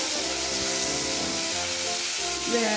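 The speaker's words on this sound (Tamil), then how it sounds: "தக்காளியை சேர்த்துட்டு நல்லா வதக்கிக்கோங்க" Tomatoes sautéing with onions in a pan for a simple tomato chutney, giving a steady, close sizzling hiss that holds evenly throughout with no talk.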